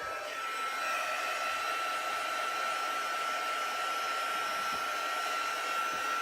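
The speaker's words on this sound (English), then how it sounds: "I'm going to take my heat gun, and I'm going to dry this." A Stampin' Up! heat gun dries ink on a handmade paper card, giving off a steady, unbroken blowing hum like a hair dryer. It runs evenly for several seconds, close by, with no voices.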